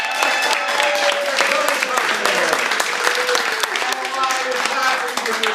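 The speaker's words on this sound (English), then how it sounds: "give yourselves a round of applause" Dense crowd applause fills a birthday party celebrating a 40th, steady and loud throughout with no gaps, while some voices and cheers blend into the clapping.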